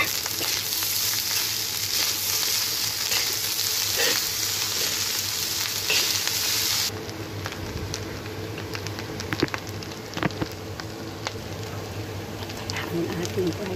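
Special fried rice fries in a pan with a dense, steady sizzle and crackle up close, shifting midway to a lighter hiss with scattered stirring clicks, while a voice is faintly present underneath.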